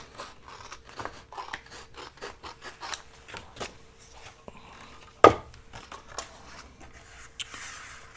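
Scissors snip close by, trimming a paper bag insert for a multi-pocket flip folder, in a quick series of soft cuts and rustles with one sharper crunch midway.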